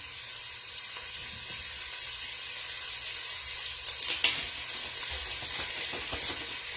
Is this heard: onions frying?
yes